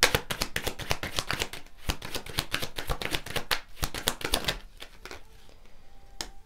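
Tarot cards being shuffled and drawn: a dense, fast run of crisp riffling and flicking cards, close and steady for several seconds before thinning out, with no voice.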